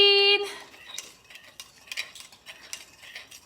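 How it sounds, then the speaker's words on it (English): Ingredients being stirred in a kitchen pan to dissolve, light scraping and clinking strokes in an irregular rhythm, close and fairly quiet after an opening electronic beep. "Stir that and let that dissolve."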